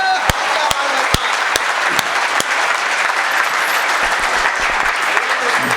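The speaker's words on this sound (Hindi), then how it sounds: "पहले एक बार तालियों से दुआ सलाम तो हो जाए।" Audience applause at a Hindi hasya kavi sammelan (comic poetry gathering), a steady dense clapping from a large crowd that fills the whole stretch, with sharper individual claps and some voices mixed in.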